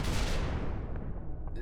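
Mortar firing in an Unreal Engine animation previs: a dense, roaring low boom that fills the whole moment and slowly fades, with no talking.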